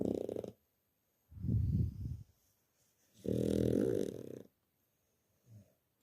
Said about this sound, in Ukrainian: Тебе теж задовбало, як він хропе?